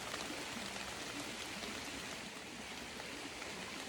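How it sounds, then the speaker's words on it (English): Faint, steady hiss of rainfall, an even wash of patter with no breaks and no voices. "Oh, here comes that rain."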